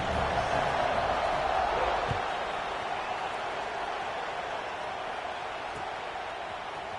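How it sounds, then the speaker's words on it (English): Buzzing college football stadium crowd after a score, a steady broad roar of many voices heard from a distance, loudest at the start and easing slightly, with a brief thump around two seconds. "this crowd is buzzing after that last score"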